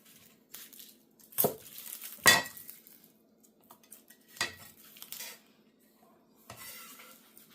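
Sharp cleaver chops thud against a cutting board in several separate strikes as garlic is cut, with light scraping and peeling sounds between them; no talking.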